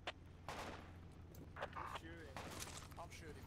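Video game gunfire in a team shooter, bursts of shots cracking out in several clusters amid the match, with players talking over the shooting throughout.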